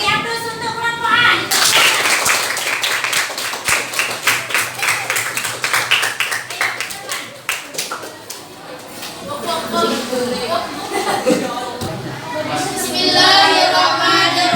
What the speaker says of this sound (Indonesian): Beri aplaus untuk kelompok A.